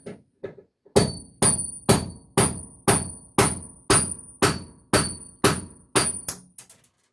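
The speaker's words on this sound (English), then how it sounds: "If you're listening closely, you can hear me when it starts to pop out." Repeated hammer blows on a bus part, about a dozen sharp metallic strikes in a steady rhythm, close and loud, with a few lighter taps first and a slight slowing toward the end as the part works loose.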